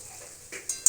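Turmeric, chili, cumin and coriander powders fry with potatoes, carrots and peas in a pan, heard as a brief close sizzle with quick stirring scrapes.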